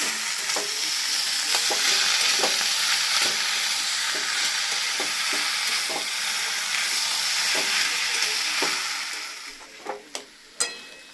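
Mashed banana stem is stir-fried in a pan with a loud, steady sizzle and repeated stirring scrapes, close by; the frying eases near the end, followed by a few sharp utensil clinks.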